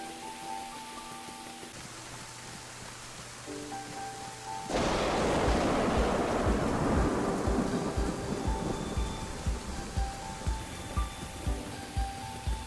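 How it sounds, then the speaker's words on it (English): Heavy rain pours down steadily in a video game, a dense roar that swells suddenly partway through, with a low rumble and a soft tonal hum beneath. "It's raining so hard I wouldn't be surprised to find more animals walking in pairs."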